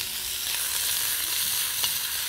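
Very thin cubes of meat fry in corn oil for maqluba, making a continuous broad hiss with faint stirring touches and no voices.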